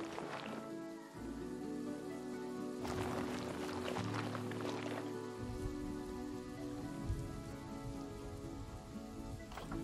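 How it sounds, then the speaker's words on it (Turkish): Steady rain falls in the zoo-building game Planet Zoo, a dense, even hiss that runs through the whole stretch alongside sustained tonal game music and low rumbles. "bu yağmur artık yağmasın ve gece de olmasın"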